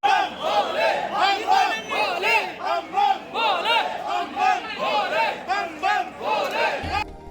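Large crowd of pilgrims at the Chandanwari security check on the Amarnath Yatra route near Pahalgam, chanting loud rhythmic devotional cries together in repeated waves, close and continuous.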